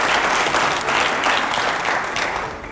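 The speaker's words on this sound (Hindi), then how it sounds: "अब अगला सवाल आपके लिए, जोरदार तालियां हो जाए पहले तो।" Loud, sustained applause from a television studio audience at a political interview show, a dense wash of clapping that continues without a break.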